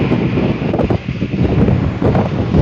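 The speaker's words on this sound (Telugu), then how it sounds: "అలలు వస్తున్నాయి కదా, అది సముద్రం అనమాట" Sea waves at the coast at Antarvedi, a loud rushing surf mixed with strong wind buffeting the microphone, surging and easing in uneven swells.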